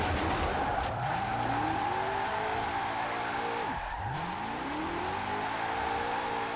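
A 2020 Shelby GT500 in Forza Horizon 4 revs hard, engine pitch climbing through repeated gear sweeps, dropping sharply midway and then winding up again, loud and continuous with no talking.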